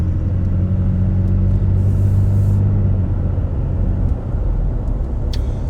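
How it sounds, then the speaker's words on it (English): Steady road and tire rumble inside a Toyota Tacoma running Nitto Ridge Grappler tires, a continuous loud low drone with engine hum at moderate speed and no talking. "That'll give you an idea of what the tires sound like under different speeds."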